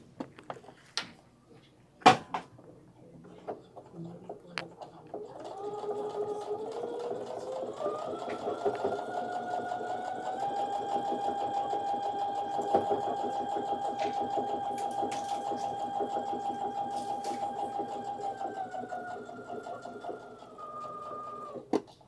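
A sewing machine runs a straight stitch along a quarter-inch seam while piecing a quilted wall hanging, a steady close mechanical whir lasting over ten seconds after a few faint clicks and taps.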